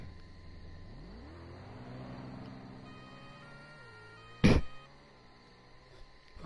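A new car's engine idles and revs up briefly, rising in pitch then settling, fairly quiet and close, with a sharp loud knock or thump partway through.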